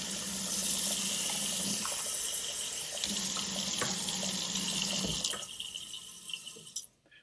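Water runs steadily from a tap, used to loosen white glue on model railway track, giving a close, continuous hiss that stops abruptly near the end, leaving a few faint drips and clicks.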